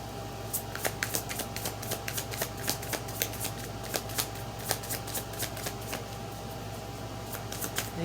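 A deck of tarot cards being shuffled up close, a steady run of crisp riffling clicks and soft papery slaps lasting several seconds with no talking.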